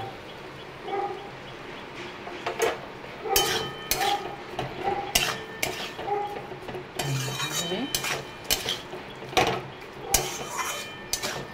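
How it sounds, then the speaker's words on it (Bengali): A spatula stirs pointed gourd in a pan, giving repeated metallic clinks and scrapes against the cookware over a soft sizzle, with a brief voice partway through. "চলো একটু নেড়ে চেড়ে নিলাম"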